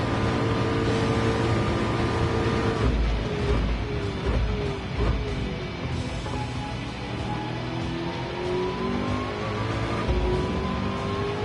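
Race car engines in Gran Turismo 7 at Daytona, a steady loud drone that rises and dips in pitch through shifts and acceleration, continuous without speech.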